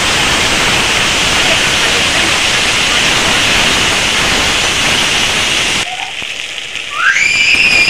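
Water poured onto hot spice paste for a fish curry sets off a loud, dense, rain-like sizzle close by that drops away near the end, followed by a brief voice and a high whistling tone.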